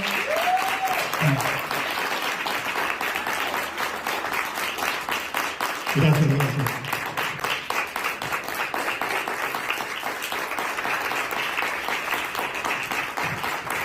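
Sustained audience applause follows a talk on gut microbiota, dense and even clapping that runs for many seconds while a speaker briefly talks over it.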